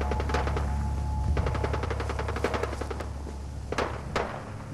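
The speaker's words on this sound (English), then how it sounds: "More gunfire." Gunfire in Fallout 4 survival mode: rapid bursts of automatic shots and scattered single cracks, moderately distant, over a low steady background hum, with no talking.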